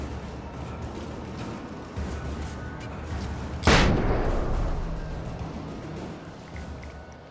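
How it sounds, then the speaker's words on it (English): A flashbang detonates in the video game Alan Wake, one sharp loud blast midway that rolls off into a fading rumble over steady background game noise, with no talking. "More flashbangs."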